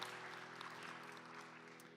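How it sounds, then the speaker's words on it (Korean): A church congregation at a Sunday youth worship service applauds in a soft, even patter of many hands, faint and steady over a low sustained hum, with no voices. "우리 박수로 서로의 신앙과 삶을 응원하며 축복합니다"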